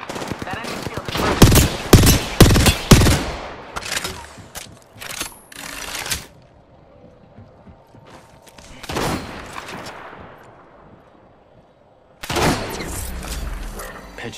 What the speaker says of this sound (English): I'm getting shot. Opening fire.